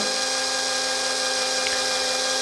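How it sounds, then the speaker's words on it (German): A continuous high-pitched whine of a power drill running steadily at close range, with no breaks. "So, fangen wir einfach mal an zu bohren."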